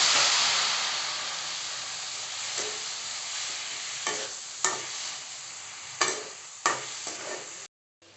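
Steady sizzling and frying hiss of chopped tomatoes in a pan, with a few louder scraping stirs breaking through near the end.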